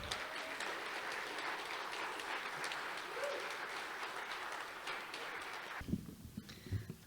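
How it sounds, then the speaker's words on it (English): A storytelling festival audience in Taos applauds to welcome a speaker: steady, full clapping for nearly six seconds, then it stops abruptly and a voice begins under a few stray claps. "Give her a round of applause."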